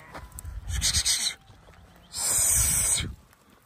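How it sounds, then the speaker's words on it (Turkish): Sheep of a scattered flock in snowy, fog-covered mountains give two loud, close bleats, one early and a longer one later, with quiet outdoor background between them. "Ha bunlar kimin koyunu ya?"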